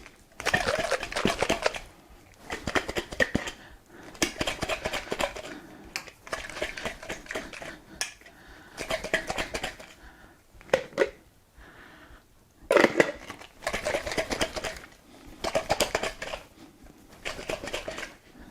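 Cream being shaken in a jar to churn cultured butter, heard as repeated bursts of rapid rattling and sloshing that start and stop over and over, close and fairly loud, with no talk.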